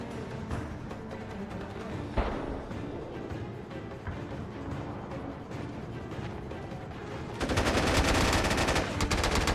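Turret fire in SOCOM U.S. Navy SEALs 3, rapid mechanical bursts rattling continuously over a busy battlefield, growing into a louder, denser barrage near the end.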